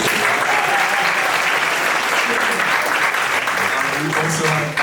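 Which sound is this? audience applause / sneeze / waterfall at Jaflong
audience applause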